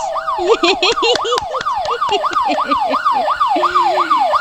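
A police siren in the horror video game Fears to Fathom wails in fast repeating up-and-down sweeps, loud and close, with a second tone briefly overlapping early on.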